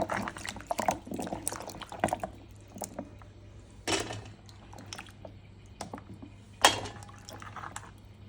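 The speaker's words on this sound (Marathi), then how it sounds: "आणि एकदा पाण्यात धुवून घेते." Fig fruits (umbar) being rinsed in water in a bowl, with intermittent splashes, swishes and drips, several louder sloshing bursts among quieter trickling, close by and with no talking.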